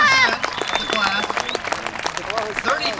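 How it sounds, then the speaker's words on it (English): Crowd applause at a university graduation ceremony, steady dense clapping that fills the space, with cheering voices and chatter mixed in throughout. "let's give them a wonderful round of applause"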